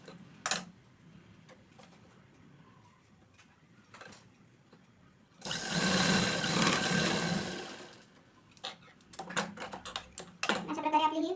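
A sewing machine stitches tucks below the neckline of a blouse in one loud, steady burst of about two and a half seconds, with quiet handling clicks before and after and a short whir near the end.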